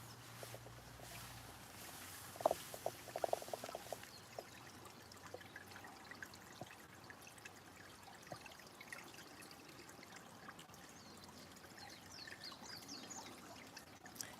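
Mountain stream water trickles and burbles steadily at a quiet early-morning spot, a faint continuous flow with no talking.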